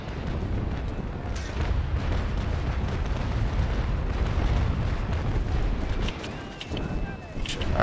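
Ship cannons boom in a broadside during a naval video game port defense battle, a dense, continuous rumble of overlapping blasts and crackling bursts, with a voice talking over the fire.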